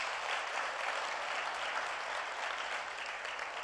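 A church congregation applauding, a dense steady burst of clapping from many hands that holds evenly throughout.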